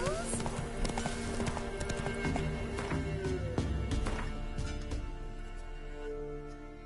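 Horse hooves clip-clop at a gallop in a video game, steady rhythmic thuds under game music and a voice talking throughout.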